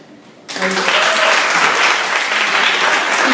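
An open mic audience bursts into loud, sustained clapping that starts abruptly and holds steady, with a few voices mixed into the crowd noise.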